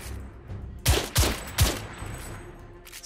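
Three sharp, close gunshots crack in quick succession during a firefight in The Order: 1886, each a loud, booming report over a low ambient hum, with no speech.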